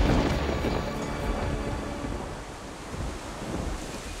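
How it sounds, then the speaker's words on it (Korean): Rain falls in the Manas jungle as a dense, steady roar of heavy downpour, blended with a wind-like rush, continuous and fairly loud with no voices. "3월부터 마나스에는 비가 내리기 시작한다"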